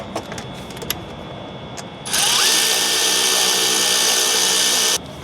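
A power drill or impact driver tightens bolts on an S&B hot and cold side boot kit on a 2006-2010 Chevy/GMC Duramax 6.6L, one steady loud whirring run of about three seconds after quiet shop handling noises.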